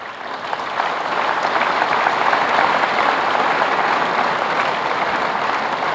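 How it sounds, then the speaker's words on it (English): Round of applause at a university graduation ceremony in Hyderabad, a large hall full of people clapping in a loud, even, sustained wash with no speech. "I also want you to give a round of applause to our parents."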